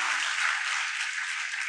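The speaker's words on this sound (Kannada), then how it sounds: "ಚಪ್ಪಾಳೆ ಹೊಡಿಲಿಕ್ಕೆ ನಿಮ್ಗೆ ಖುಷಿ ಆಯಿತು" An audience at a public lecture gives a dense, even burst of applause, steady and fairly loud throughout with no voices over it.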